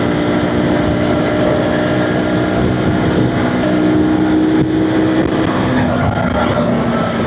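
Wind rushes past while riding over the Kolaghat bridge on a road trip. A loud, constant roar buffets throughout, with a steady engine hum underneath.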